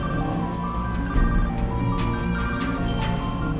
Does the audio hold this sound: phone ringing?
yes